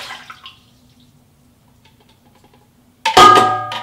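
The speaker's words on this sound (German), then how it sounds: "Wasser-Hefe-Zuckermischung in den Rührtopf." A water, yeast and sugar mixture for pizza dough is poured into the bowl of a Kenwood Cooking Chef Gourmet mixer. After near silence, a loud, close splashing pour starts suddenly and runs to the end.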